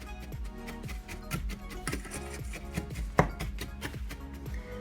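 Cracker crumbs being crushed and stirred in a pan for a banoffee pie base, a steady run of close scraping and crunching strokes in a repeating rhythm, with no voices.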